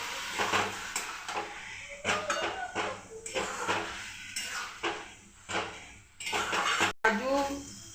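Pointed gourd curry stirred in a pan with a utensil, giving clanking scrapes and knocks against the metal over most of the stretch, close and fairly loud, with a brief pause near the end.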